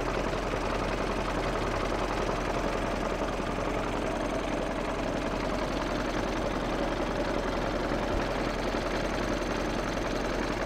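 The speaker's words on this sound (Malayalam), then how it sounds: "എഞ്ചിൻ്റെ ഒരു സൗണ്ട് ഇതാണ്." The diesel engine of a Bharat Benz 1214 Timber Express truck idles close by, a loud, constant low rumble with an even knocking pulse that never changes.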